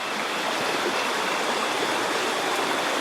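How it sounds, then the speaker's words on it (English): A mountain river in the San Gabriel Mountains rushes close by, a loud, even broadband roar of flowing water with no voices over it. "I'm gonna cross the river here."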